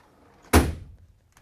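A tool drawer in a machine shop holding collets slides and hits its stop with a single sharp thud, a short rattle trailing off in a quiet room.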